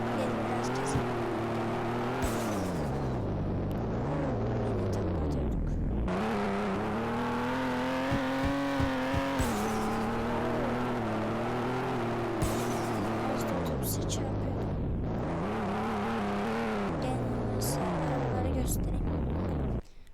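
Cars drive in the Roblox game TürkHaven, engine tones rising and falling in repeated revving sweeps, loud and continuous, with brief gaps between passes.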